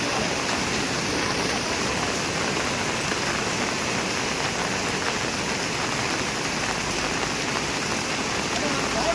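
Heavy rain pours steadily over a flooded cardamom and coffee plantation, with rushing floodwater adding a dense, continuous roar that stays loud and even throughout, with no distinct breaks.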